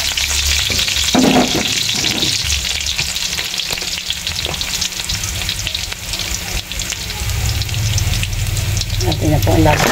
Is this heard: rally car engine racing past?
no